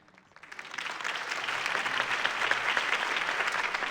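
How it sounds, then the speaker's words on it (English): Applause from an in-game crowd in Batman: The Telltale Series swells, building quickly and holding as a dense, steady wash of clapping. "could have heard that applause"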